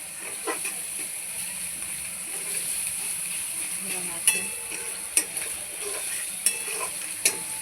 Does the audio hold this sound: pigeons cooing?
no